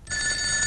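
A telephone bell rings in a comedy film scene, one short, bright, steady burst of ringing heard alone.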